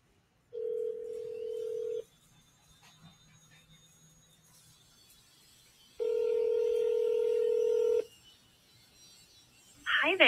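An outgoing phone call ringing, two long steady ring tones separated by a quiet gap, heard close and clear before a brief burst of another tone at the end.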